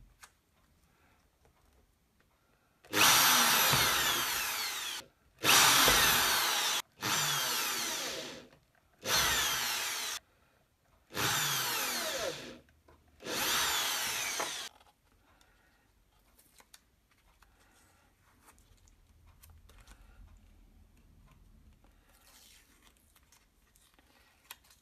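A power drill bores holes in soft plastic for a Firebird-style guitar build, in six loud, separate bursts of one to two seconds each. Faint handling noises follow.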